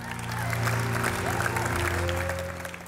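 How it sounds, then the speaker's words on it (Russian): Church hall audience applauds briefly, a short swell of clapping mixed with sustained organ or music tones and a voice underneath. "мы аплодируем вам всем сейчас."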